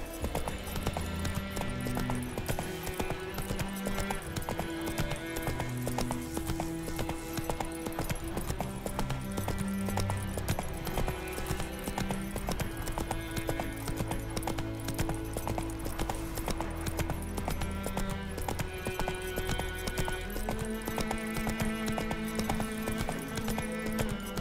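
Roach the horse gallops in The Witcher 3 with a rapid, steady clip-clop of hooves under game music, continuing throughout.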